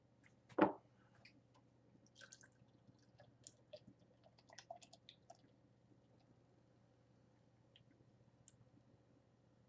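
Famosa Lager beer is poured into a glass: one sharp close knock, then a quiet, scattered crackle of fizzing bubbles that slowly thins out, with no talking.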